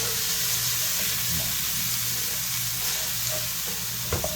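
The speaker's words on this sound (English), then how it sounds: "Give us a wooden spatula and work those peppers around" Peppers and onions sizzling steadily in a hot pan while a wooden spatula scrapes and stirs them around, close and continuous, with a small knock near the end.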